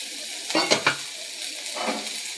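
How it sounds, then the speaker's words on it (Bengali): Eggplant fries in a pan with a steady sizzle, broken by a few scraping stirs of a spatula against the metal, close and moderately loud. "বেগুনটা ভালোভাবে ভাজা হয়ে গেছে।"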